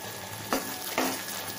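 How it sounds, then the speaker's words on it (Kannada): Curry leaves and spices fry in hot oil in a pan for puliyogare, a steady close sizzle broken by two sharp louder crackles as leaves hit the oil, with no talking. "ಇದನ್ನು 1-2 ನಿಮಿಷ ಹೀಗೆ ಫ್ರೈ ಮಾಡ್ಕೋಬೇಕು. ಈಗ ಕರಿಬೇವಿನ ಸೊಪ್ಪು ಹಾಕ್ಕೊಳ್ಳೋಣ."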